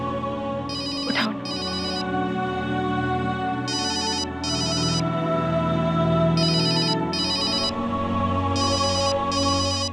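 A mobile phone ringtone sounds in repeated paired electronic bursts at steady intervals, loud and close, over a sustained bed of background music.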